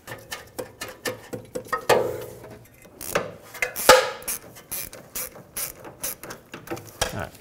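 A ratchet tightens the sway bar link on a 2003-2008 Toyota Corolla, rapid close clicking strokes in uneven bursts with metallic creaks and knocks throughout.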